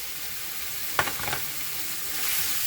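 Chicken being stirred with a couple spoonfuls of yogurt in a hot pan: a brief scraping stir at about one second, a few softer clinks after, over a steady faint sizzle.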